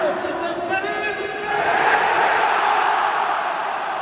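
A big stadium crowd at Groupama Stadium in Lyon cheers and applauds in a steady, roaring wash that swells slightly midway, heard from within the stands with no clear voices standing out.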